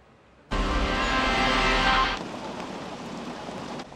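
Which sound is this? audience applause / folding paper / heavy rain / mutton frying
heavy rain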